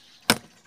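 A Taurus PCP air rifle, converted, fires a single Striker Diabolo pellet, a short sharp crack with a quick fading tail, close and loud against quiet surroundings.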